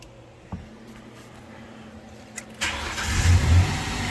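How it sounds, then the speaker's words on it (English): A Ford Ranger truck engine cranks and catches midway, then runs at a steady idle with a slight rev, close and fairly loud after a quiet stretch with faint clicks. "Truck still runs."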